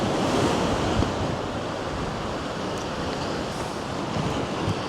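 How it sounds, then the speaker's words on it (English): Ocean waves break into frothy white water below a cliff, a constant loud wash of surf with gusty wind buffeting the microphone, no voices present. "So you've got the cliff shadow and that frothy white water."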